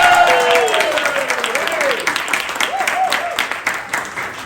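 Audience applause closing a storytelling session at a corporate event, clapping that carries on under a voice and some tonal sounds before slowly thinning out.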